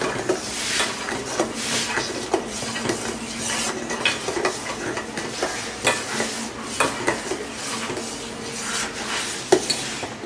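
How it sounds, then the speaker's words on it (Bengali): Palm-fruit payesh made with Gobindobhog rice being stirred in a pot, with a steady gentle bubbling and sizzle under repeated scraping and clinking spoon strokes at a moderate, close distance. "এখন একটু নাড়িয়ে চাড়িয়ে নিই।"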